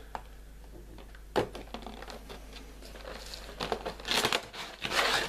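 Cardboard packaging box of a Saint Seiya Myth Cloth Aiolos Sagittarius figure being opened: crinkling, tearing and rustling handling noises that grow busier toward the end, close and alone over a low hum.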